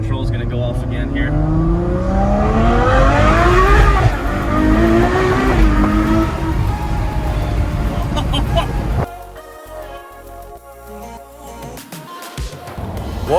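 Ferrari 812 Superfast V12 roaring loudly as it accelerates hard, rising engine pitch through gear changes with tire noise, then cutting to a quieter idle and faint engine sounds near the end.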